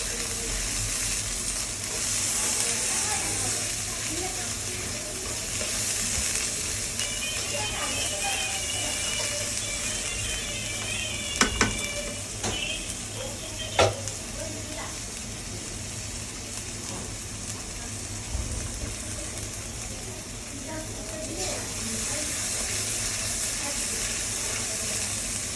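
Spice paste for a rui fish curry sizzles and fries in a pan, a steady close hiss with a few sharper spits and crackles throughout.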